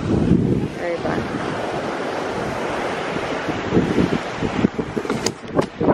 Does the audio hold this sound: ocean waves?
yes